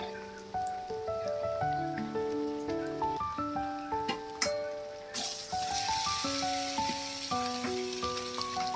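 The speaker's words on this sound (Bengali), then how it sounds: "এবারে গোটা পেঁয়াজটা বেশ কিছুক্ষণ খুব ভালোভাবে ভেজে লাল লাল হয়ে গেলে" Onions fry in a pan for mutton bhuna, and a soft crackling sizzle rises about halfway through under gentle melodic background music.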